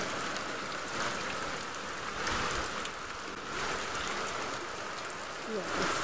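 Sudden heavy storm rain pounding a flat rooftop that is already flooding, with gusting wind; a steady, loud hiss of drops with slight surges in intensity.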